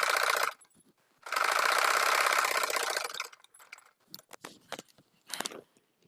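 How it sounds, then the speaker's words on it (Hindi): Electric sewing machine stitching a blouse fitting seam: a loud, fast, steady whir runs for a short burst, pauses, then a longer stretch, followed by scattered clicks and brief handling rattles. "तो चलिए मैं यहाँ पर एक सिलाई पहले लगा लेती हूँ।"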